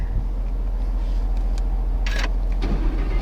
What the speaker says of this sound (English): I already know how good this sounds when it starts up